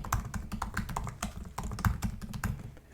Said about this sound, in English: I'm going to go ahead and type in my email